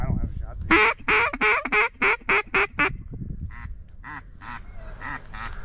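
Gadwall ducks flying over in a Texas public-land hunting marsh give a loud run of rapid, evenly spaced quacks, then a few fainter, scattered calls, with hunters' voices low beneath.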